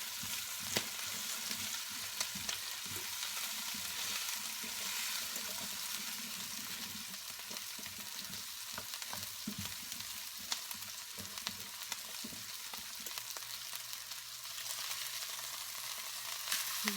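Steak fries in a pan with a steady, close, even sizzle and occasional faint stirring clicks, with no talking over it.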